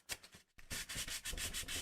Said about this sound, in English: I'm just sanding out where the highlights are.